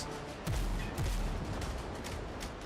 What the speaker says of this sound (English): My front cannon just almost sunk the level 2 boat.